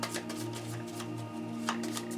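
A deck of playing cards is shuffled at the table during a Gloomhaven board game, a brief, close riffle of papery flutters with no talk over it.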